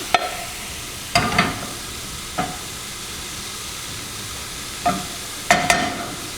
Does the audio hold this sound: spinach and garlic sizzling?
yes